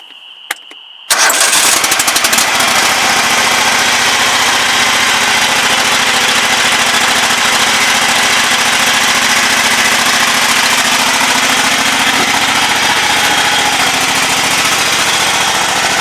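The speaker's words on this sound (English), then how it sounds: "26 horse Kohler that smokes lightly" A 26 horsepower Kohler engine on a riding mower with a 54-inch deck, 582 hours and light smoke, starts after a brief quiet moment, then runs loud and steady close by with a constant droning rumble.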